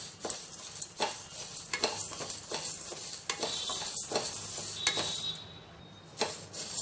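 Urad dal dry-roasts in a pan over a medium flame while a spoon stirs it, making quiet, rhythmic scraping strokes about once a second, with a light rattle of lentils and a faint sizzle between them.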